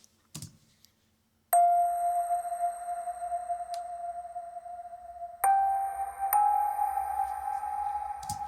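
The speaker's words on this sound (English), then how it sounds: "playing some melody every now and again, was this music box sound" Clear bell-like music box tones ring out one at a time with long sustained reverb decay, a sparse chiming melody in a quiet space.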